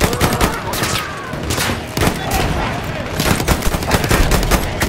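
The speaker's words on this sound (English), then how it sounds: "I think it's a shotgun." Rapid, loud gunfire in the Battlefield 1 video game, including a shotgun with a bayonet. Booming shots come in dense bursts across the whole stretch.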